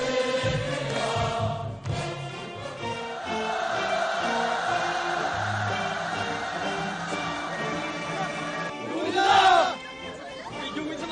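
A crowd of students in Korea shouts enthusiastically, their loud massed voices blending into a sustained roar that swells near the end, with a tonal band of music or voices running beneath.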